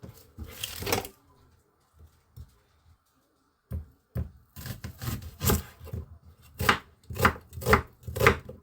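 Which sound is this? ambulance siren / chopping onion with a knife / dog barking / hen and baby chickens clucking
chopping onion with a knife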